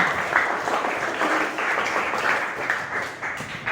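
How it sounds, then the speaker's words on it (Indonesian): A classroom of students applauds together, a steady, even wash of clapping that holds at a moderate level throughout without any voices over it. "tepuk tangan sebelumnya untuk kalian semua"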